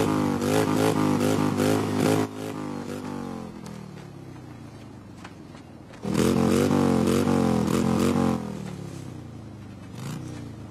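Loud motorcycle engine of a Turbo Chopper 750cc, a transformed cartoon motorbike villain, revving in hard bursts with clattering mechanical noise, a strong surge near the middle then dropping back to a steady idle.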